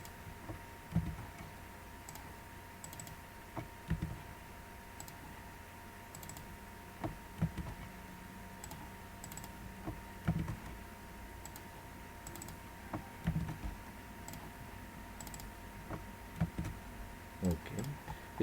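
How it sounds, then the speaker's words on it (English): Text is typed on a computer keyboard during drafting work in Creo CAD software. Soft, faint key clicks come in irregular bursts against a low steady hum, with no voices. "by double clicking we can type the text"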